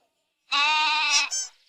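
Cartoon goat giving a single clear, drawn-out bleat with a wavering tone and a short upturned tail, loud and close against silence.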